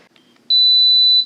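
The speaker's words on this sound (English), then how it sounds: "when the brew cycle is finished on this machine, there's a really loud, high-pitched beeping noise" A single loud, high-pitched electronic end-of-brew beep from an OXO 8 Cup coffee maker held steadily for under a second, following a brief quiet murmur.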